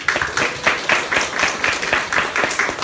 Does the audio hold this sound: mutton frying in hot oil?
no